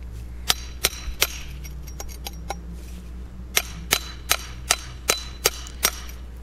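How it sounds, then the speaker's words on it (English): A chisel struck with a hammer scores a flagstone for a walkway, giving sharp, ringing stone taps in two uneven series of about six or seven blows each over a steady low hum. "You got to score the piece and then go at it with your chisel."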